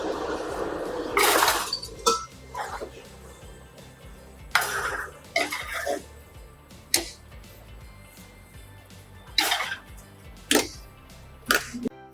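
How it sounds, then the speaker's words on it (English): A metal cupcake pan clinks and rattles as it goes into a convection oven for cranberry orange cupcakes, a scatter of sharp close metallic knocks and clatters with pauses between. "We're gonna put our cupcakes into the oven now for 20 minutes."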